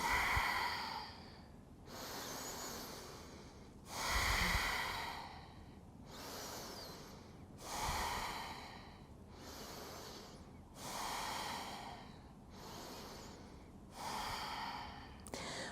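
Slow, deep breaths during a hatha yoga bridge pose hold, about eight broad inhale-and-exhale swells with a steady rhythm, close and fairly soft, with no talking.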